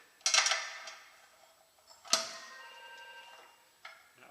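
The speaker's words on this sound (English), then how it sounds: "That'll be the phone." Telephone ringing indoors in a workshop during a motorcycle tyre change, two bright bell-like rings about two seconds apart, each fading out, with a third starting at the end, fairly quiet and with no talk.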